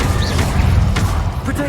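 Incendio fire spell cast in Hogwarts Legacy, a dense, steady roar of flame that runs the whole short stretch, with voices speaking over it.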